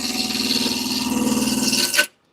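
Wood being roughed round on a lathe running just over 1200 RPM with a gouge, a continuous close rasping, rhythmic scraping hum that cuts off abruptly at the end.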